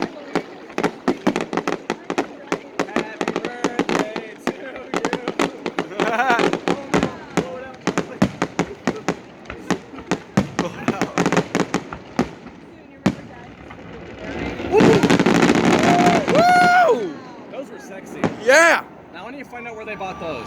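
A fireworks show after a Kansas City Royals baseball game fills the air with rapid, dense volleys of sharp bangs and crackles, then a louder burst of sustained explosions and whistles, while people nearby talk and cheer.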